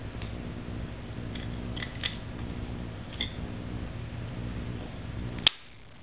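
Cutting a pen with wire cutters or similar for a homemade pen gun, a few faint clicks and snips over a low background hum, ending in one sharp snap before near silence.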